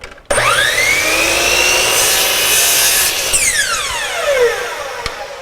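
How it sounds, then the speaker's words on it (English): A handsaw cutting a wooden dovetail piece to length, strokes running steadily and close up for about five seconds, with a rising squeal near the end as the cut finishes. "then I can cut the dovetail to length"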